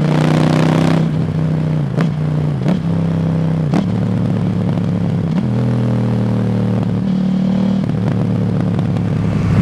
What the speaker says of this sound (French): Par contre la sonorité quand elle broute comme ça, je kiffe.